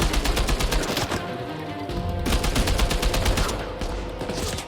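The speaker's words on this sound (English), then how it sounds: "They brought back the FALs again from the last two games. It's definitely a 3 burst." Rapid gunfire from an FAL rifle firing three-round bursts in Uncharted 4, loud close cracks in quick clusters with brief pauses between volleys, no voices over it.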